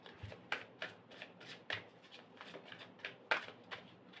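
Tarot cards are shuffled and handled close by, giving a quick series of crisp riffling snaps and slaps at a fairly steady rhythm, quiet overall, with no talking over it.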